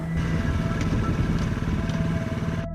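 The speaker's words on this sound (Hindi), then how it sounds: "उसने अपनी गाड़ी को स्टार्ट किया, स्पीड बढ़ाई" A motorcycle engine runs steadily with a throbbing, even idle-like chug, loud and close throughout, with no clear rev rise and a sudden cut at the end.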